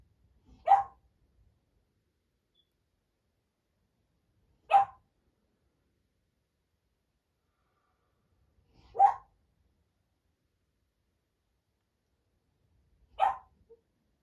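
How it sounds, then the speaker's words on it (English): A dog gives four single barks, evenly spaced about four seconds apart, each one short and moderately loud against an otherwise silent background. "Just listen to the dog bark."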